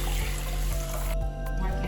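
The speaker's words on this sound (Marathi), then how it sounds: "त्याच वाटीनं 2 वाटी पाणी टाकायचं." Water is poured from a measuring bowl into a pan holding ghee while barnyard millet cooks for a fasting vadi, giving a steady close trickle and splash under a low background hum, with no one speaking.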